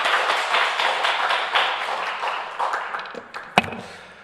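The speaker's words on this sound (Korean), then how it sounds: "하나님께 영광의 박수 하겠습니다." A Sunday church congregation applauds in worship, a dense burst of clapping that gradually thins and fades over a few seconds, ending with a single sharp knock.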